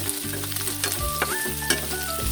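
Garlic, onion and ginger fry in a pan after something has browned, a steady close sizzle with occasional scrapes and clinks from stirring, plus faint tonal background hum and no voices.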